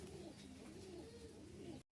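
A pair of Jalali colour pigeons coos in a steady, low, throaty murmur close by, the cooing running without a break before cutting off abruptly near the end.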